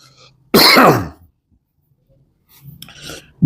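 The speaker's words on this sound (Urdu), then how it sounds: "میری کھانسی بہت شدید ہو رہی ہے" A man with a bad cough gives one loud, harsh cough-and-throat-clear burst up close, then after a pause a quieter, rougher round of throat clearing.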